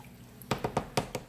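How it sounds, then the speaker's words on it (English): Drain cleaner bubbling and foaming in a plastic bin as it strips blue anodized color from aluminum parts, heard as five distinct wet pops at an uneven pace, close and fairly soft. "a little bubbling or foaming or whatever you may want to call it"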